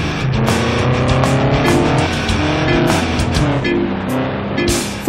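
Racing car engines in Ford Racing 2 on Xbox, loud buzzing revs climbing and shifting through gears, with several cars overlapping and occasional tire noise, continuous with no talk.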